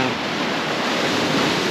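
Surf from the Gulf of St. Lawrence washes against volcanic rock on a driftwood-strewn shore in Gros Morne, a steady, close, broadband roar of breaking water with no voices.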